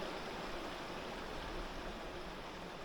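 Fast-moving high river water rushes in a steady, broadband roar, continuous and fairly close, with no other sounds.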